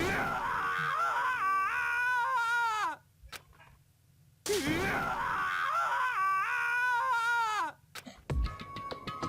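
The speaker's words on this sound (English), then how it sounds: "Ishimura's bitter scream echoed through the courtroom" Ishimura, a character in the game Danganronpa, lets out two long anguished screams that rise and waver with a sobbing edge, separated by a short near-silent gap, loud and close with a slight courtroom echo.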